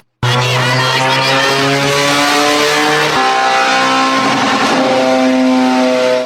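An old Shanghai rally car's turbocharged 2.0-litre engine revs hard on a dyno, a loud sustained roar with rising harmonic pitch, a brief dip near three seconds before climbing again.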